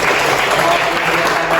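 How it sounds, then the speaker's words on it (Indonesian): Group of students clapping at the close of a university class session, a dense steady burst of applause throughout. "Tadi kelompok 1 tepuk tangan lagi."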